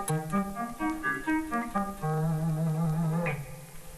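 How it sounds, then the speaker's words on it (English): An electric guitar plays a blues lick without delay: a quick run of bent, clipped notes settling into a held low note that ends with a short rising flourish, all up close and unaccompanied. "if I play it without the actual delay"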